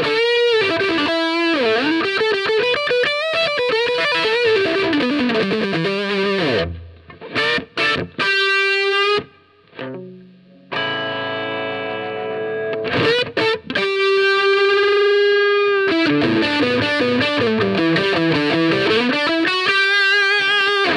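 Marshall DSLCR40 guitar amp with its master volume turned down, driven and distorted with a chorus-like shimmer, playing loud sustained chords and bending lead notes with a couple of brief pauses, close up and with no talking.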